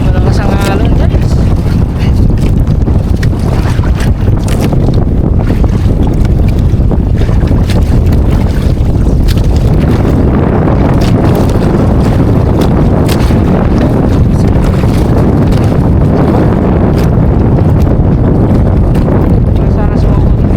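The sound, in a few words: strong sea waves around a fishing boat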